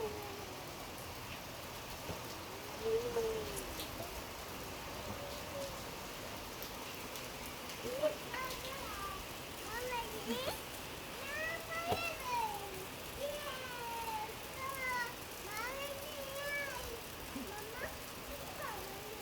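Soft rain patters steadily outdoors, faint and continuous, while a young child babbles and chatters excitedly over it.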